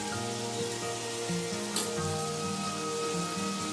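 Turmeric tipped into hot oil for a coconut prawn curry, raising a soft, even sizzle with a faint crackle partway through, fairly quiet and close, with low background tones and no speech.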